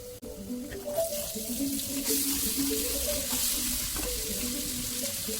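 Shredded cabbage fries and is stirred in a pan for cabbage thoran, a soft steady sizzle with scraping and clattering utensil movement, moderately faint and close, with no talking.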